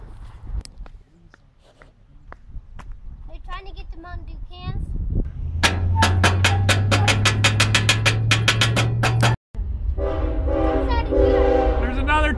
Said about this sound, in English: There's another train coming, watch out!